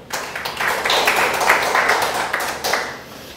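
A church congregation at a Sunday worship service claps together in a broad burst of applause that swells quickly, holds steady, then thins out at the end.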